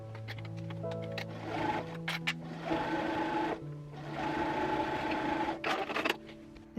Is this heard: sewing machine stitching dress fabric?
yes